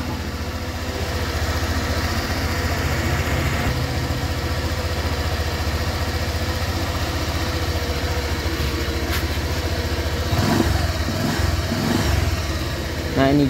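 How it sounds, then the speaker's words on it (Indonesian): A Honda Vario 125 motor scooter engine idles steadily at close range, a continuous even rumble with a few brief bumps near the end. "Nah ini mesinnya sudah hidup ya, kita dengerin aja."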